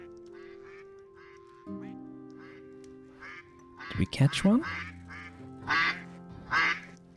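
Cartoonish duck quacks in the Stonehearth video game sound in short bursts over steady tonal game music, growing louder toward the end, while someone talks over them.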